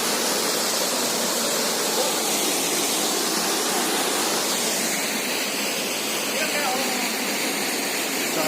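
Lodh waterfall roars in a dense, continuous rush of falling water, loud and close, with no break across the whole stretch.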